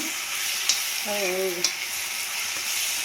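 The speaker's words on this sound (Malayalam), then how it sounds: "ഇഞ്ചി വെളുത്തുള്ളി ചതച്ചിട്ടത് ഉപ്പിട്ട് നല്ലതുപോലെ വാട്ടിയെടുക്കാം" Crushed ginger and garlic sautéed with salt in a pan for a prawn macaroni dish, giving a steady close sizzle throughout with a couple of sharp spatula taps and a brief tonal squeak midway, no talking.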